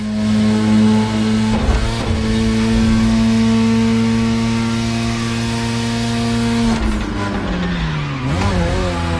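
A Mazda RX-7 Turbo 2, the second-generation RX-7, driven in the video game The Crew Motorfest: a loud, steady engine drone holds a sustained pitch, broken by brief tire squeals before the revs drop and waver.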